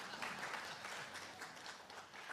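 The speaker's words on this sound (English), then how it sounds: "we can clap for them" Audience applause at a Kabbalat Shabbat service in a pavilion, dense, steady clapping from many hands sounding soft and somewhat distant, continuous for a couple of seconds without talk.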